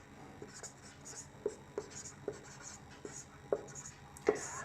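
A pen writes out a maths solution on paper during a Class 10 real-numbers lesson, giving soft, faint scratching with light taps at irregular intervals and no talk over it.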